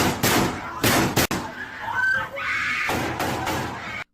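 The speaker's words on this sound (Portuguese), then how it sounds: "os tiros disparados" Sharp gunshots fired during a school attack, recorded by students: several loud, abrupt bangs in quick succession amid panicked screaming and chaotic voices, close and harsh.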